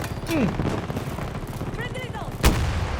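Gunfire in Battlefield 2042: a loud sharp shot rings out near the middle and trails off, with other game noise and chatter around it while a player talks.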